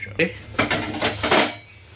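A clattering metallic clank as the lid of a dough-sealed brass pot of Hyderabadi Irani chai is pried open, followed by softer handling clinks while a person talks.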